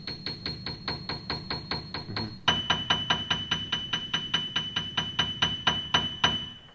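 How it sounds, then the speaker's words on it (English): A Roland HP-605 digital piano plays steady, evenly spaced notes in a quick rhythm, each with a crisp mechanical hammer knock at its onset, growing slightly louder partway through. "we can change the hammer noise. So more noticeable at the top end."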